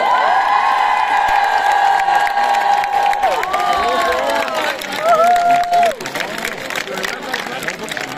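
Large crowd at a concert applauding and cheering, a dense wash of clapping and whoops with an amplified voice carrying over the top.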